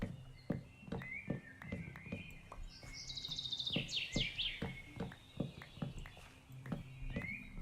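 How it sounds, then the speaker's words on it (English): Birds from an ambient sound pack in survival Minecraft chirp and trill over steady, rhythmic clip-clopping hooves, soft and somewhat distant throughout. "I added that ambient bird pack and sound."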